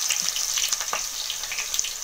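Mustard seeds, garlic and onion fry in hot oil for a Tamil fish kuzhambu, giving a close, steady sizzle with crackles and small pops and no talking.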